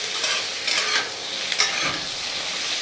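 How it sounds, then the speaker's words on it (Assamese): Potatoes and pumpkin sizzle in a pan over a medium flame, a continuous close hiss punctuated by several quick scraping stirs of the spatula, with no voices present. "এনেকৈ প্ৰায় 2 মিনিটমান সময় মই এনেকৈ ভাজি থাকিম মিডিয়াম ফ্লেমত"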